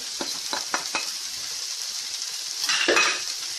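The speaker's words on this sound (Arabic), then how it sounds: "وارجع اضيف يعني بس اقلبها شي مرتين بس لحتى تاخذ لي طعم" Onions fried in a pan with a batch of spices stirred in for Iraqi kubba, a steady close sizzle with a few soft scraping stirs early and a louder burst of frying near the end; no one talks.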